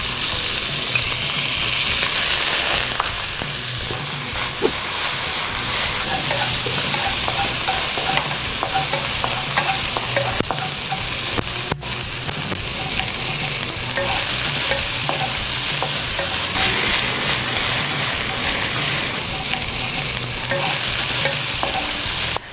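Chicken and shrimp stir-fry in a hot wok while cooking nasi goreng, with a loud, steady sizzle and frequent scraping and clanking of the spatula throughout, close up with no talking.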